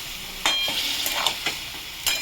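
Food cooking in a pan with a splash of water and a little sugar is stirred over a soft sizzle, with several distinct scraping strokes at irregular intervals.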